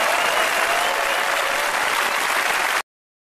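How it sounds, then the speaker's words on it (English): Loud, dense audience applause from a crowd after a talk on artificial intelligence and consciousness, steady and sustained for nearly three seconds before cutting off abruptly. "please give it up, a bigger round of applause for Yosha."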